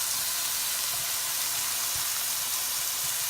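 Spicy coriander-marinated salmon fillets sizzle in a hot pan just after being flipped, a steady close hiss of frying with no break and faint low crackles underneath.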